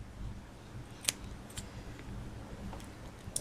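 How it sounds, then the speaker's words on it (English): Scissors trimming excess rope after a half hitch knot, a few sharp, isolated snips close by over a quiet background. "Now you just want to cut off the excess."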